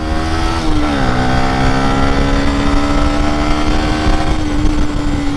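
A Yamaha YZF-R125 motorcycle engine revs up steadily, its pitch rising and then holding as it accelerates, loud and close throughout.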